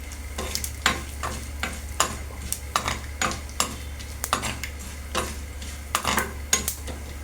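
Chana dal, mustard seeds, cumin and dried red chilies fry in a kadai for tempering, a low steady sizzle broken by frequent sharp scrapes and taps of a spoon against the pan.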